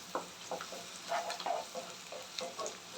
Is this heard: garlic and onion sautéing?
yes